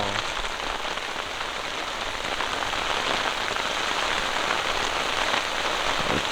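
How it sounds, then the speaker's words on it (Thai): Heavy rain pours steadily on a tent at a seaside campsite in Korea, a dense unbroken hiss of drops drumming on a surface, close and constant throughout. "ฝนตกอ๋อ"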